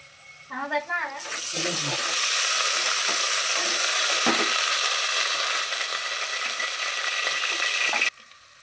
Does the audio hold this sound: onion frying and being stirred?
yes